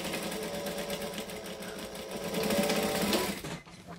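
A sewing machine stitches a seam on a bag in a steady, loud, continuous whir that picks up briefly before stopping near the end.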